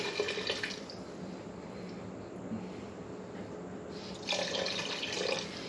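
White vinegar poured into a batch of homemade jalapeno hot sauce, a steady liquid stream with splashy bursts at the start and end and a quieter, continuous trickle between, close and clear with no talking.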